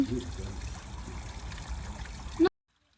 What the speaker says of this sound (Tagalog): Ang daming isda, tapos may ano, fountain.